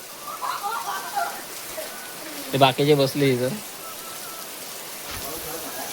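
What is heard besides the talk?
heavy rain falling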